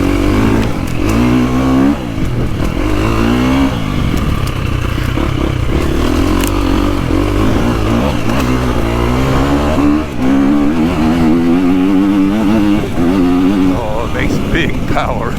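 KTM 350XCF dirt bike ridden on a woods loop, its engine revving and buzzing continuously as the throttle rises and falls through corners, loud and close-up, with someone speaking over parts of it.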